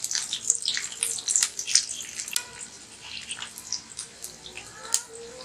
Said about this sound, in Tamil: இப்போ நம்ம புளி தண்ணி கரைச்சி அதில் ஊற்றிக்கலாம்.